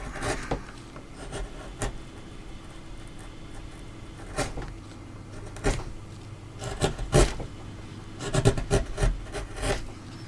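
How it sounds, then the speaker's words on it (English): A hand gouge carving a wooden dragon figure, giving irregular close scraping and rasping cuts in short bursts against a quiet background, with no talking. "I can use this gouge and get closer in"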